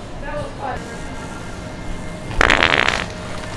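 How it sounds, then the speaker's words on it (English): A fart toy lets out a wet, sputtering fart burst of about half a second, loud and close, in a prank setting with people talking around it. "The fart toy."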